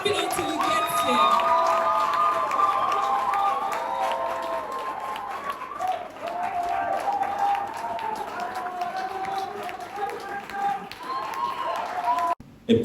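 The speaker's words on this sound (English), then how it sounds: "Keep clapping until he gets here." Audience applause and cheering during a standing ovation at an award event, a steady, full wash of clapping with scattered shouts running for the whole stretch, voices mixed in, before it cuts off near the end.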